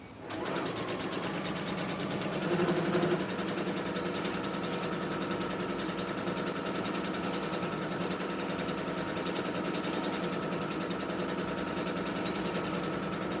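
A sewing machine runs steadily and close by, stitching long easing threads through fabric, a continuous even whir with a slight surge near the start and no break until the end.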